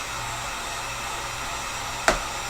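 Heat gun blowing hot air onto a recurve bow limb during a bow build, a steady broadband whoosh running throughout, with a sharp click or tap near the end.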